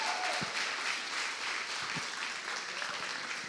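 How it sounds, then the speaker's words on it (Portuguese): A church congregation applauds in a steady, dense wash of clapping that fills the room, with a few sharper individual claps standing out and no talk over it. "Vamos aplaudir a Deus pela vida dele."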